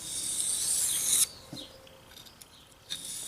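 Fillet knife blade honed on a sharpening stone at a 20-degree angle, heard as one long rasping stroke followed by faint scraping touches, close and quiet.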